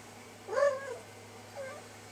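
A house cat gives a short, clear meow followed by a fainter second meow, close by over a low steady hum.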